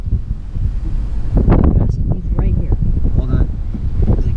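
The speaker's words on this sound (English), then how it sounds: "I'll have to turn the audio off because it's really windy" Wind blowing hard across Florida wetlands, buffeting the microphone with a loud, continuous rumble while voices talk over it.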